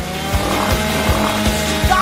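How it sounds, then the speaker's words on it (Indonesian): A saw cuts through a Twix chocolate bar with a loud, continuous motorized buzz that pulses in a steady rhythm. "Singkirkan gergaji itu sekarang. Tenang, aku membutuhkannya untuk memotong Twix."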